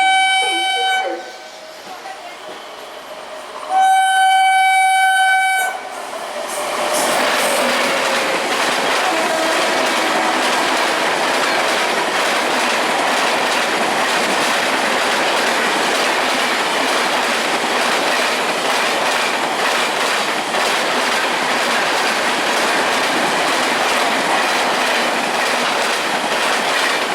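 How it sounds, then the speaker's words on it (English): Express trains pass through a platform at Howrah station: brief tonal horn or chime notes open, then a loud, sustained rush of wheels and rattling carriages runs close by without letting up. "Two trains will be passing from platform number 1."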